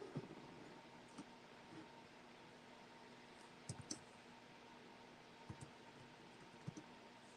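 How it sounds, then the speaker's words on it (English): Light, sparse clicks of computer keyboard typing in a quiet room, scattered taps rather than a steady run, over a faint hum. "My typing skills tonight are not on point."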